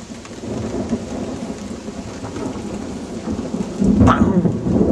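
Steady heavy rain pours throughout, with a loud crack and rumble of thunder bursting near the end.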